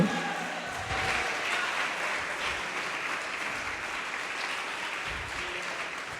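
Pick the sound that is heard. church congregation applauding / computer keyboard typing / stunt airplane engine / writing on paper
church congregation applauding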